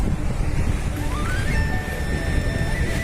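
Waves wash onto a crowded sandy beach on the Arabian Sea, a steady broadband surf roar mixed with wind buffeting, with a faint rising whistle-like tone partway through.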